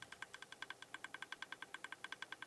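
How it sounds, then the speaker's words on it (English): A card shuffler machine in Minecraft gives off a quick, even train of sharp clicking ticks, about eight per second, faint and alone. "Here goes the shuffler."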